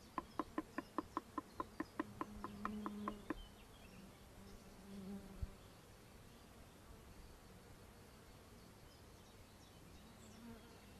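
A steady swarm of honeybees buzzing close by at an apiary, joined at the start by a rapid series of sharp clicks that stops after about three seconds.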